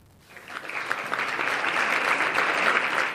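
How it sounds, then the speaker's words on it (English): Sustained applause from a room of scientists at the launch of a key report on the state of nature in Paris, clapping swelling after a quiet start and holding steady and dense. "There was strong applause from scientists here in Paris as this key report on the state of nature was presented."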